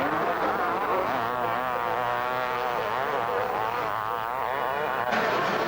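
A 125cc Yamaha motocross bike screams flat out on a rough sand track during a 1990 motocross race, its high-pitched two-stroke whine rising and falling steadily with gear changes, loud and continuous throughout.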